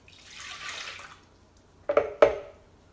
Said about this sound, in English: First, I'm gonna go ahead and pour in my coffee.